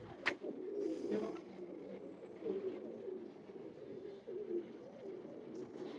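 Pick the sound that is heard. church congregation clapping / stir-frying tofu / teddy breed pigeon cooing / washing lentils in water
teddy breed pigeon cooing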